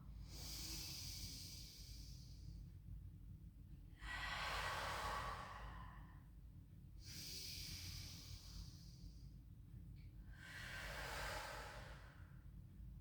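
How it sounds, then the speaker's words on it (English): A person doing Pilates breathes slowly and audibly through a quiet room, two long soft exhales separated by pauses, close and faint, with no talking. "Inhale, let the belly rise. Out breath."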